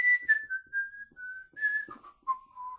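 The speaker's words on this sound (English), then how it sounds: "and I whistle," A clear tuneful whistle, close and fairly loud, sliding through a few sustained notes with short breaks between phrases.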